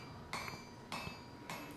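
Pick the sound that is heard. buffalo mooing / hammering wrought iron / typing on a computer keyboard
hammering wrought iron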